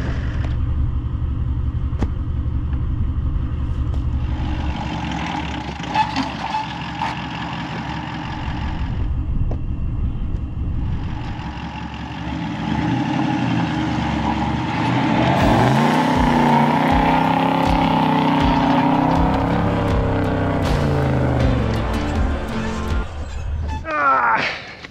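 A four-wheel-drive vehicle with recovery tracks under its tyres revs hard, trying to climb out of a bog in remote Northern Australia. The engine runs in long, loud, rumbling surges that rise and fall, close by and continuous.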